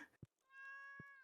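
Cartoonish cat meow from a video game, a single sustained harmonic call preceded by two short soft thumps, fairly quiet and alone.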